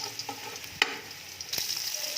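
Garlic fries toward golden brown in a pan, a close, steady crackling sizzle with a couple of sharp pops or utensil taps and no talking.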